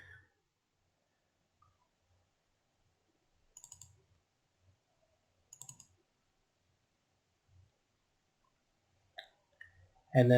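A few sharp, isolated mouse clicks sound in a quiet room, spaced several seconds apart, with a louder click and faint clatter near the end; no talking.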